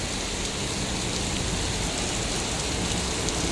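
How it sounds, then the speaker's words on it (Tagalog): Heavy rain drums steadily and loudly on a large umbrella on a street near the Sha Tin market, a dense, unbroken hiss with no voices. "dahil malakas ang ulan"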